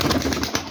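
Rajshahi Giribaj pigeons coo in a brief, dense murmur of overlapping soft notes, close and fairly loud, with no talk.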